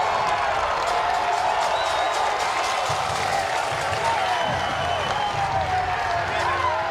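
A stadium crowd roars and cheers after a goal in a men's college lacrosse quarterfinal between North Carolina and Rutgers, a loud, sustained wall of noise with whoops rising through it. A commentator talks over the crowd.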